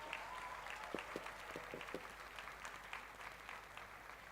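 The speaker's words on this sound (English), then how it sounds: "Can we have a huge round of applause for them?" Audience applause at a university convocation ceremony, a soft wash of many hands clapping at moderate distance, even and sustained with a few brief tonal blips.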